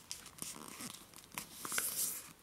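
Paper creased and folded for an origami frog makes soft, close crinkling and rustling with brief sharper crackles as the edge is pressed down, fairly quiet and with no talking.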